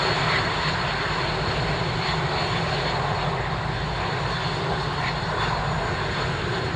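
Aerobatic display team aircraft performing at the Royal International Air Tattoo air show, giving a loud, steady engine roar that fills the whole stretch without pause, with no voices.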